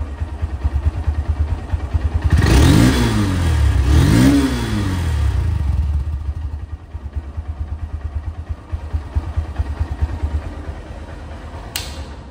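A 2024 Honda Hornet motorcycle sits at a close, throbbing idle, gets two sharp throttle blips, then settles back into a steady chugging idle with no voices.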